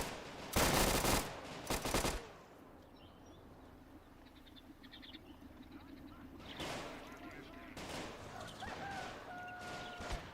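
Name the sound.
anti-tank rifle and gunfire in a strategy video game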